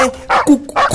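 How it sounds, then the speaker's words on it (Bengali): Two or three close, loud dog barks in quick succession. "কুকুরের আওয়াজ মনে হচ্ছে।"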